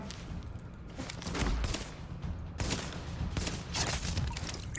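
Gunfire rattles in Tom Clancy's The Division, a run of rapid shots and bursts in several clusters, fairly loud against a busy in-game background.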